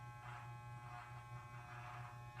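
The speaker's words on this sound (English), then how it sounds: "I have my trusty clippers right here, and I'm just going to go." Electric hair clippers with no guard, used to fade a grown-out buzz cut, give a faint, steady electric buzz that swells slightly at regular intervals. No one speaks.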